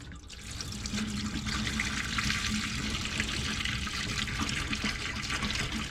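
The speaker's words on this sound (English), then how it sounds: "I will pour it in the drain itself." Liquid pours steadily into a camper sink drain, a continuous gurgling splash at moderate volume with no pauses.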